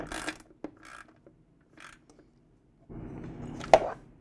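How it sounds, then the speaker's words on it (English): A ratchet tightens the lower fuel tank bolt on a Troy-Bilt TB280ES lawn mower, giving a few short, close clicking strokes separated by pauses, with a brief louder clatter near the end. "First, I'll resecure the lower fuel tank bolt."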